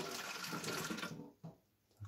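Water set aside from a mix of garlic and water, made as a natural fungicide for orchids, is poured out in a short, soft splashing stream that tapers off, followed by a couple of faint small splashes.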